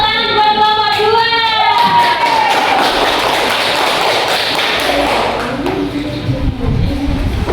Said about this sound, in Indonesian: Yuk tepuk tangan buat kelompok 2.